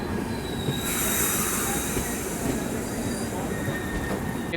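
A passenger train pulling out past a crossing at Nandikundi junction, a steady loud rumble of wheels on rails with a high metallic squeal of wheels running over it throughout.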